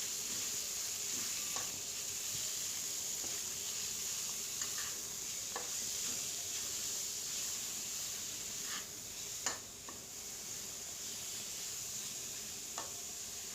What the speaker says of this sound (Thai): ค่ะคนหมูจักหน่อยเนาะค่ะร่วนให้หมูสุกเนาะค่ะ